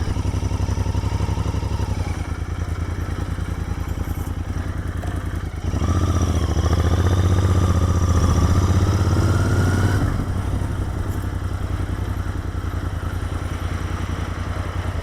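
A 2019 Royal Enfield Interceptor 650 motorcycle engine runs steadily nearby, with its throb swelling into a louder, revved stretch midway before settling back to an even idle; no one speaks.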